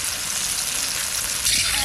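Potatoes frying in hot oil for a duck curry, a steady dense sizzle close to the pan with a slight surge near the end, no talk.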